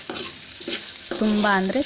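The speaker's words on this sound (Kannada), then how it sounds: "ನಂತರ ನಾವು ತಗೊಂಡಿರುವಂತಹ ಕರಿಬೇವನ್ನು ಸೇರಿಸ್ಕೋಬೇಕು ಒಗ್ಗರಣೆಗೆ." Curry leaves hit hot oil in a mustard seed and cumin tempering, giving bursts of sizzling and spattering with scraping stirs in between, loud and close.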